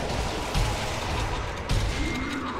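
Two separate rifle shots crack in the Sniper Elite: Nazi Zombie Army video game, each a brief thump standing above a constant, noisy in-game background with no talk.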